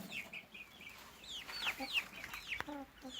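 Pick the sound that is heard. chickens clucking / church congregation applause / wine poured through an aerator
chickens clucking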